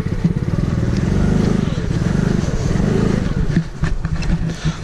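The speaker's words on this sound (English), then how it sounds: "Fuck, I just ran out of gas." A motorcycle engine running unevenly as its gas runs out, a steady close low rumble that wavers and surges across the clip, with a few scrapes and knocks near the end.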